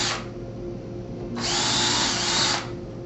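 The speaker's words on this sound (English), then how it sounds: "and pre-drill your hole." A power drill pre-drills a screw hole for a direct-mount window hinge. A short opening spin is followed by a longer, louder steady whine, with no talking.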